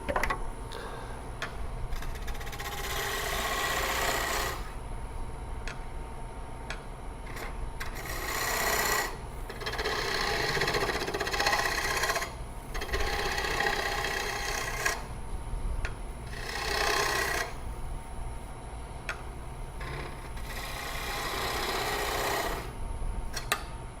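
A wood lathe turns a bowl while a parting tool cuts into it, giving a continuous whirring hum with repeated louder scraping bursts as the tool engages the wood, close and without speech.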